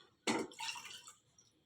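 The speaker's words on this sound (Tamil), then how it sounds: "அப்படியே தண்ணி ஊற்றி வச்சு பாத்திரத்தில் அலசி நல்லா அதை ஊற்றுவோம்" Water is poured and swirled over ragi in a vessel, a short close splash followed by softer sloshing and trickling, quiet and without talk.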